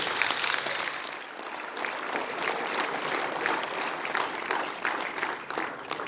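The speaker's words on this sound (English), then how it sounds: "A round of applause, ladies and gentlemen, for Mr. Jehan Aloysius." Sustained audience applause fills a hall at a school Shakespeare competition awards ceremony, a dense steady wash of many hands clapping for a judge being introduced, continuing without break.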